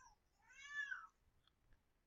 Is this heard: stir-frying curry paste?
no